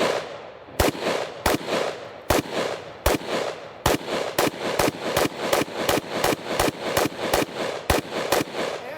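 A firearm rigged to fire by pulling a string shoots round after round, loud sharp reports in a fast, fairly steady rhythm, more than a dozen shots in quick succession.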